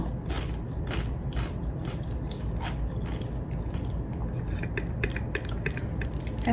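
Close eating of fried shrimp chili paste with sticky rice, repeated wet crunchy chewing and small clicking bites in an irregular rhythm, with no talk.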